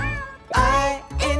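A cat meows loudly and close by. Two drawn-out, rising and falling cries are separated by a short gap.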